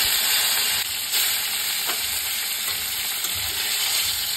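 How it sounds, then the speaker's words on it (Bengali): Fish coated in salt and turmeric fries in hot oil, a steady close sizzle with bubbling crackle holding level throughout, no voices. "এবারে লবণ হলুদ দিয়ে মেখে রাখা মাছগুলোকে ভেজে নেব।"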